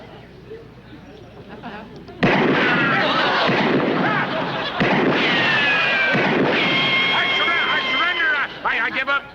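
Gunshots fired in a duel between two men, one with a real bullet: after a quieter stretch, loud broadband bursts hit near and close together, blending with a harsh, sustained crackle and shouting voices.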